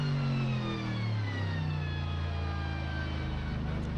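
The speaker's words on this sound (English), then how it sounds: "this is what it sounds like at the speed limiter on the mighty Bingo Racing Corvette" A Bingo Racing Corvette race car idles along the Suzuka pit lane on its speed limiter, giving a loud, steady, throaty engine drone whose pitch sags slightly as it passes close by.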